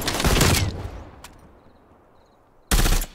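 Gunfire in Call of Duty Black Ops Cold War during a team deathmatch hardpoint match: a loud, dense burst of rapid shots, a single sharp crack, a quiet gap, then another loud burst at the end.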